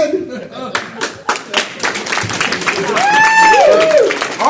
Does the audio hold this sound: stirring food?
no